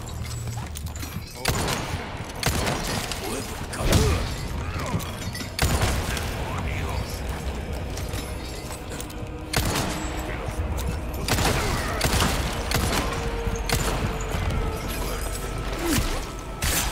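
Shotgun blasts in Resident Evil 4 Remake ring out as several sharp, loud bangs spaced a few seconds apart over a busy game soundscape.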